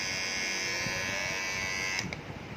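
An electric hair trimmer (Flipkart SmartBuy M4D12Q) hums steadily with a high-pitched motor whine, close and constant, then clicks and falters near the end.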